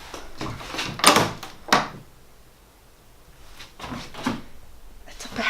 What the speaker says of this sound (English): There's a door, so let's open it, I guess, and see what's behind it.